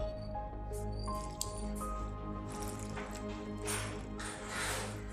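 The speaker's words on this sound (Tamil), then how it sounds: "இப்போ இதில் கொஞ்சம் கொஞ்சமாக தண்ணி ஊற்றி பிசைஞ்சுக்கணும்." Soft, wet squishing as bajji batter is mixed by hand with water added gradually, irregular squelches over a steady low hum of background music.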